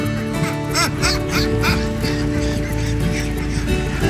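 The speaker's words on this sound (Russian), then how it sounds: "тут пробка из гусей образовалась" A crowd of geese honking and squawking together on a road in Ninh Binh, Vietnam, continuous and busy, fairly close, with overlapping calls throughout.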